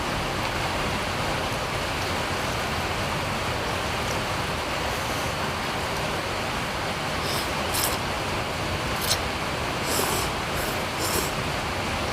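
Steady, dense rain hisses continuously, loud and close, with a few faint higher clicks near the end.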